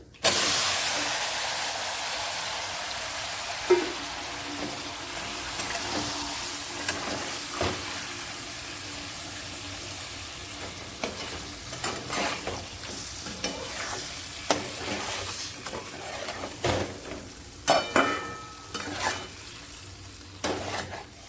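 Fish pieces coated in red chili powder fry and get stirred in a pan, a loud broad sizzle that settles over time while clattering utensil scrapes and knocks grow more frequent toward the end.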